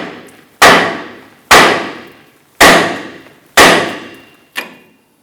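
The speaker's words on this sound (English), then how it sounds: "we can use a hammer and strike the knuckle, and the tapered portion of the tie rod end should pop out" Five heavy hammer blows on the steel steering knuckle of a 2006-2010 Hummer H3, loud ringing metallic clangs about one second apart, each decaying before the next, the last one lighter.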